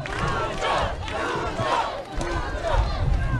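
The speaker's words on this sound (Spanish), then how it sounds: "¡Fuerte el aplauso y el cariño de la gente!" Bolivian crowd at a public works event in Santa Cruz cheering and chanting for President Luis Arce: a loud, rowdy mass of voices with rhythmic rising shouts, near and continuous.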